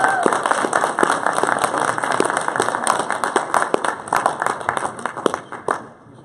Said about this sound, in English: Can we also give Jessica a huge round of applause?